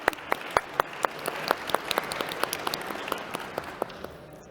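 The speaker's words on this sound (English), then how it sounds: "Another round of applause to them." Conference audience applauding release contributors at a Kubeflow talk, with sparse, distinct individual claps standing out over a softer crowd patter that gradually thins and fades toward the end.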